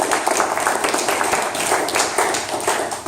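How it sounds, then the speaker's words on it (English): Audience applause at a 1 Million Cups entrepreneur gathering in Daytona Beach: a dense, steady wash of many hands clapping close by for about three seconds, tapering slightly at the end. "So an applause there for you guys today."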